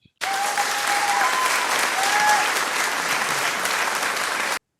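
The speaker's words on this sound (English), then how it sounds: "You have that little audio sample clip of wild applause" Wild applause from a large crowd, a dense, even roar of clapping that starts abruptly, holds loud and steady for about four seconds, then cuts off cleanly.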